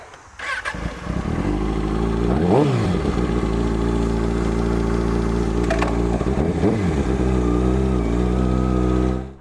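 A Kawasaki Ninja ZX-6R 636 sportbike with 38,000 miles starts up nearby, blips its revs a couple of times, then settles into a loud, steady idle before cutting off.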